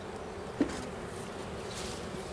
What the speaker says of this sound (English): Oh, this is that frame of honey.